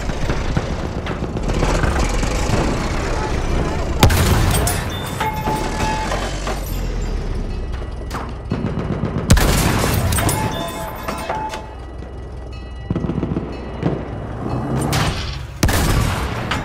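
Enemy artillery barrage in Battlefield 1 during a tank fight: loud booming blasts and crashing impacts recur at intervals over a constant rumbling engine drone, with scattered gunfire.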